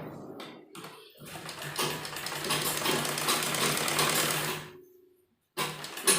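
A sewing machine runs a straight seam on a kurti loop in one fast, steady burst of about four seconds, preceded by short taps and followed by silence, then a brief restart.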